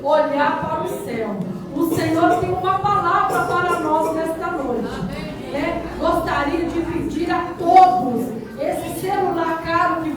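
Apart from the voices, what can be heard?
No distinct noise like a dog, phone or traffic.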